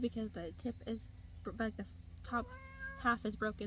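A cat meows once in a drawn-out, tonal cry over someone speaking steadily, the meow rising clearly through her talk near the middle.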